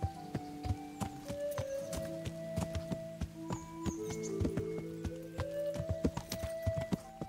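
Horse hooves clip-clop in a steady walking rhythm with a whinny in Kingdom Come: Deliverance, close and clear alongside game ambience, with no talk over it.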